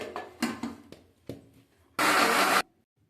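A mixer grinder grinding mint, coriander leaves and tomato: a few short knocks and clatters, then one loud, close burst of motor whir lasting under a second before stopping.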